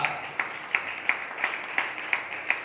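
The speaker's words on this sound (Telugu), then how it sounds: "చప్పట్లు కూడా దేవుడిని స్తుతిస్తారా?" A church congregation claps in a slow, even rhythm, about eight sharp claps in under three seconds, heard from a moderate distance with no speech over them.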